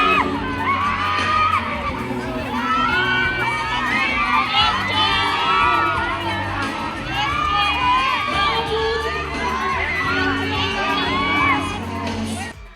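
A large crowd shrieks, whoops and cheers at a live stage performance where actor Kelvin Miranda serenades someone on stage. The excited shouting, with high children's and young fans' voices, is sustained and loud throughout.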